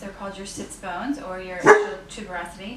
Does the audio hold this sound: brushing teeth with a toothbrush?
no